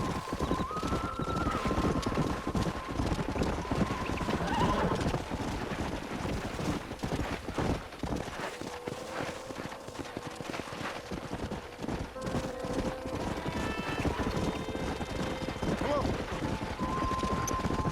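Horse hooves clip-clop steadily at walking pace in Red Dead Redemption, with occasional neighs and wind noise in the background, while someone talks over the gameplay.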